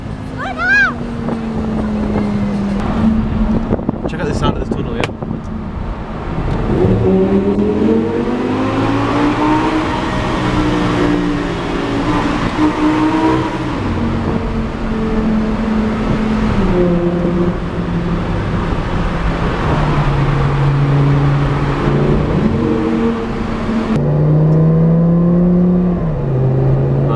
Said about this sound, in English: Check out the sound of this tunnel, yeah?